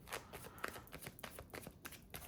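Tarot cards being shuffled by hand, a quiet run of soft papery riffles and taps that continues steadily throughout, close and faint with no talking.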